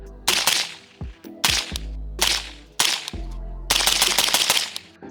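A 5.56 rifle fitted with a Resilient Stacy's Mom K suppressor fires sharp, close, suppressed shots, first singles and pairs, then a rapid string of several quick shots.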